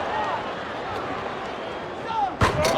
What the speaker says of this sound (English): Oh, he slams it through.